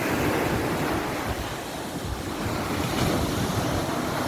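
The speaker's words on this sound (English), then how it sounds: "Really tall waves, very rough." Rough, very tall ocean waves break on a beach in Negril, Jamaica, a loud continuous roar of surf mixed with gusting wind buffeting the microphone, with no voices.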